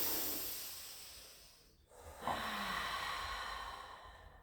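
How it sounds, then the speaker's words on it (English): A long, deep breath during a pilates cobra stretch: a breathy hiss that fades to a brief pause, then a second airy inhale or exhale that stays steady and close. "Take a lovely in breath."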